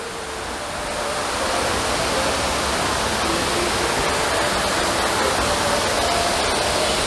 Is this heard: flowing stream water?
yes